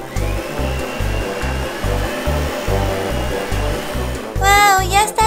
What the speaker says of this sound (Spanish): Pasemos la aspiradora.